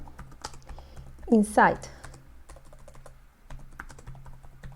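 C++ code typed on a computer keyboard in soft, steady clicking that continues throughout, while a brief spoken word cuts in near the middle.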